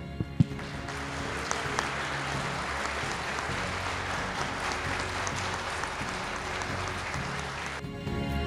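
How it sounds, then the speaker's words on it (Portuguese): Wedding guests applaud the bride and groom right after their kiss: a dense, steady wash of many hands clapping that holds evenly for about eight seconds, with a low tonal layer underneath and a sharp cutoff near the end. "Nós vamos dar uma salva de palmas para eles"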